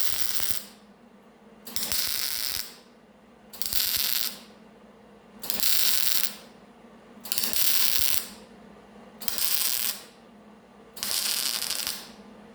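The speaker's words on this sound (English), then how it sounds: "I'm going to weld that right onto that panel there." Rusty car body metal being welded onto a panel: six evenly spaced bursts of loud, crackling, buzzing welding, each about a second long, separated by quieter pauses with a faint background hum.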